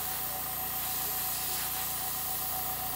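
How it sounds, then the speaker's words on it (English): A continuous, loud hiss of an airbrush spraying a wet natural-metal-finish base coat on a 1/32 scale P-38 model, steady and close with no pauses. "You want to spray it wet, but you don't want it to, you don't want to get any runs either"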